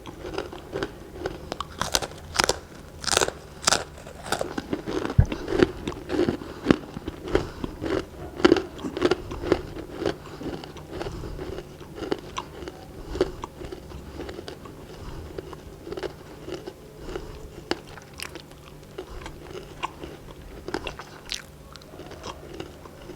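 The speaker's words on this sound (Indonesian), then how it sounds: "Kita makan keripiknya." Crispy chips (keripik) being eaten up close, with repeated sharp crunchy bites followed by steady irregular chewing crackles, loud at first and easing into softer munching, no talk.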